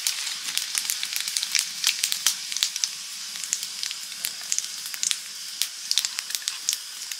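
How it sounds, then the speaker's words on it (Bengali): Cumin seeds sizzle and crackle in hot oil as a tempering for mixed dal, a bright, close hiss with rapid irregular pops throughout, fairly soft and without talk. "মিক্স ডালে এবার ফোড়ন দেব"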